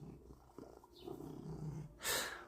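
A domestic cat purrs while being petted, a soft, close, low rumbling purr in gentle pulses, followed near the end by a brief louder breathy rustle.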